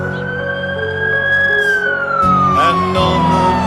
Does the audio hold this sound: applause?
no